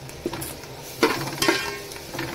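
Garlic and onion sautéing in a pan for a mutton head curry, soft sizzle under a few distinct scraping stirs of a spoon against the pan, fairly quiet and close.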